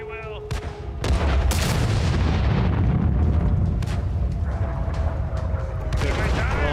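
Heavy artillery fire and explosions in a World of Tanks battle, a broad rumbling boom after a second that rolls on loudly with further blasts, over game engine noise and chatter.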